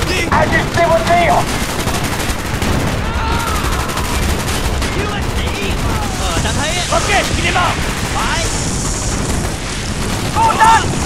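Dense, loud machine gun fire and explosions in a Vietnam war video game, continuous bursts close up with voices talking underneath.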